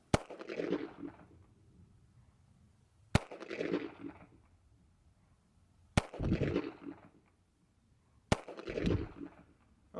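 A Taurus PT 92 pistol fires four separate sharp shots at a steady pace on a range, about 20 feet from the target, each crack followed by a short ringing decay, with no voices.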